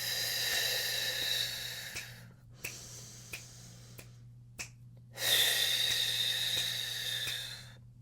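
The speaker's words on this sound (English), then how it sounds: "inhale through the nose, and when I'm doing breathing exercises, through pursed lips" Breathing exercise for singers: a long airy inhale through the nose, a few soft clicks during a pause, then a steady, drawn-out exhale through pursed lips, close and alone.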